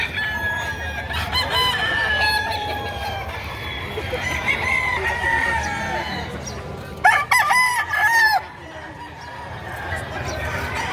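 Chickens and roosters at a poultry market in Padre Garcia, Batangas: continuous clucking and crowing, with one loud rooster crow standing out near the end over a busy crowd murmur.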